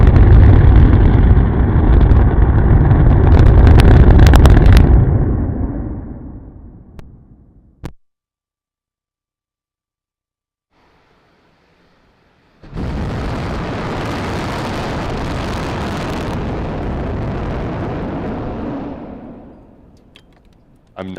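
SpaceX Super Heavy booster's 31 Raptor engines roar in a static fire at about 50% throttle, a loud broadband rumble that fades, drops to near silence, then returns as a sustained roaring blast.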